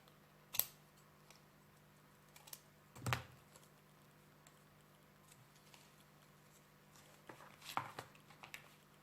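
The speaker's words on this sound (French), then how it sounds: "J'ai un tout petit bout qui dépasse, je vais le couper." A few small paper snips from scissors trimming a tiny protruding scrap on a handmade photo album card, faint, close and spaced apart in a quiet room.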